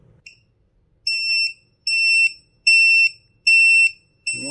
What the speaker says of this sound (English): you can tell by the beeps that the float package is working